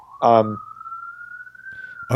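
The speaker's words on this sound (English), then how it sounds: "This is authentic New York siren." A New York police siren wails in a long, steady rising tone across the whole stretch, with a loud, brief voice burst near the start and faint sounds near the end.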